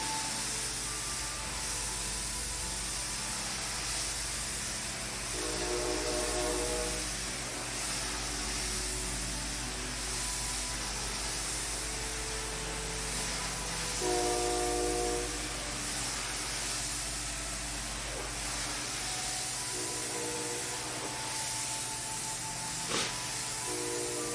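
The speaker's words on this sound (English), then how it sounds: "Oh, train number 3 is here." A train pulls in with a constant loud hiss of steam, broken by recurring tonal whistles or squeals, steady and close throughout with no talking.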